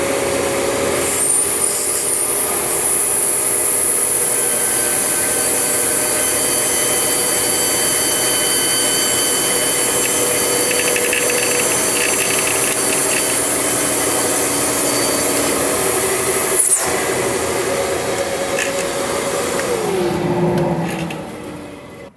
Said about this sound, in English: We're going to show you guys how we cut this baseball in half perfectly into two perfect halves.